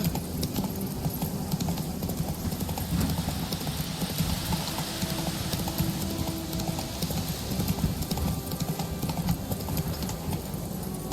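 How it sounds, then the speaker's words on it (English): Horse hooves clip-clop at a steady walking pace, close and continuous, as the horse Roach is ridden in the video game The Witcher 3, with a low ambient hum of game sound underneath. "That's it, Roach. That's where you walk."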